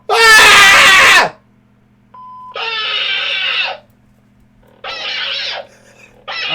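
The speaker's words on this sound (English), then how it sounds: "Oh my god, it's the Wilhelm scream." A toy lightsaber blasts a loud Wilhelm scream sound effect, then gives a short beep followed by more loud, harsh electronic bursts separated by brief pauses.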